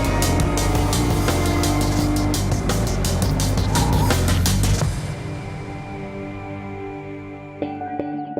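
An Aston Martin Rapide race car engine roars loudly at steady high revs during the 2010 Nürburgring 24-hour race, then fades as the car moves off, leaving a quieter hum and a brief clunk near the end.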